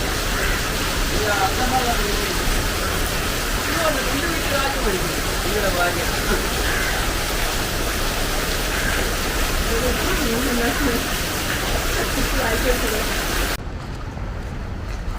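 Steady, heavy rain makes a dense, even hiss for most of the clip, with faint speech underneath, and cuts off abruptly near the end.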